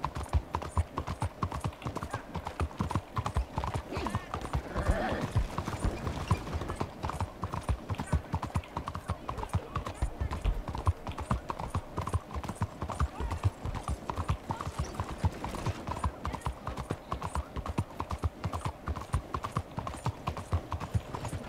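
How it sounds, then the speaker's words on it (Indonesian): Hooves of a horse-drawn carriage clip-clop steadily on a night road in the Red Dead Online video game, a brisk, continuous rhythmic patter that stays close and prominent for the whole stretch, with no talk over it. "tiba-tiba ada kereta kuda di depan, kereta kencana"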